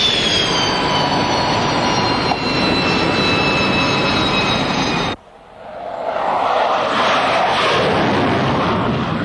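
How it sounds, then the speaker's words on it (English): An A-4G Skyhawk jet roars loudly aboard the aircraft carrier HMAS Melbourne. A steady high-pitched engine whine and rush cuts off abruptly partway through, then a broad roaring blast swells back in. "The very presence of the sleek, ear-piercing flying war machines creates an atmosphere in the carrier difficult to explain."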